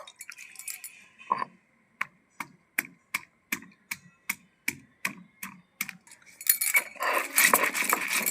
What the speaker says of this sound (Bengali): আদা গোটা ধনে গোটা জিরে শুকনো লঙ্কা সব একসাথে বেটে নেবো